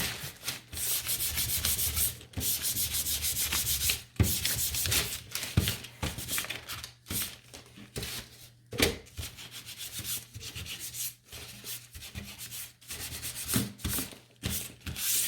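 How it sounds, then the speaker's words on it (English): Wood edges on an Easter fence piece are sanded by hand to distress them, giving a continuous, close scratchy rubbing made of repeated back-and-forth strokes with short breaks. "So then I'm just going to come in here and give this a sand."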